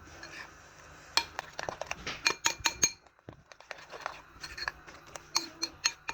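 Besan omelette batter being mixed in a bowl: quick, irregular clicks and taps of a spoon against the bowl's sides, close and busy with a short pause partway through.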